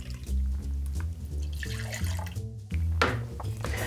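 Monkey Shoulder blended Scotch whisky, a blend of three Speyside malts, is poured into a mixing vessel for a Rob Roy cocktail, a steady liquid glug and trickle running close and unbroken for about four seconds.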